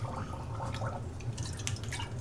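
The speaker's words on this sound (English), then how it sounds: "Pour this liquid in here." Sanitizer liquid trickles and splashes steadily into a container while brewing oatmeal stout, with faint dripping and gurgling over a low background hum.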